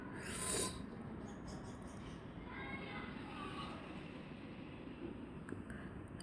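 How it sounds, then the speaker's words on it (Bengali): Garlic cloves are ground into paste, producing a faint, steady scraping rasp close by that carries on without a break for several seconds. "আমি রসুনগুলো ভালো করে বেটে নিচ্ছি।"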